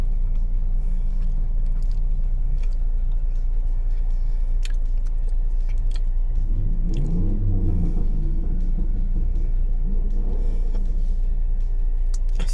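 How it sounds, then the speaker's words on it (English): A car engine revs outside, a loud, steady low rumble that swells in the middle, heard from indoors with no talking over it. "some fool revving up their engine"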